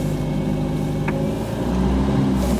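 Triumph Spitfire sports car engine running steadily with a low, continuous drone, close and fairly loud, with no clear rise in revs.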